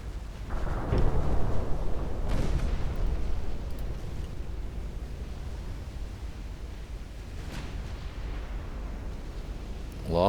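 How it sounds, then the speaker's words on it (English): Heavy naval guns boom in a battleship fight in Ultimate Admiral Dreadnoughts: a dense, rolling low roar with a few sharp blasts rising out of it, loud and continuous with no talk over it. "they're all firing at me now."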